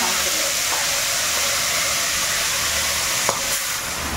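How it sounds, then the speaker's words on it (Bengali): Kashmiri chili powder and a little sugar sizzle steadily in hot oil in a home kitchen pan, a continuous bright frying hiss with a faint stir or clink near the end. "অল্প একটু দিয়ে দিচ্ছে কাশ্মীরি লঙ্কা গুঁড়ো। তেলের মধ্যে দিয়ে দিলাম যাতে কালারটা ভালো আসে।"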